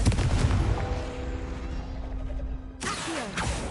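A Confringo blasting spell fired in Hogwarts Legacy gives a loud, booming burst with a rumbling tail and a sustained tone, followed by a second sharp blast near the end.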